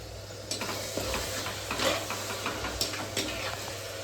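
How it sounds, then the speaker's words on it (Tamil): Ginger garlic paste with onion and tomato sautés in a pan for mutton kulambu, with a soft, steady sizzle and a few spoon scrapes and taps close by, and no talking. "இஞ்சி பூண்டு பேஸ்ட்டு வதங்குதில்ல, அதோட இது போட்டுக்கலாம்."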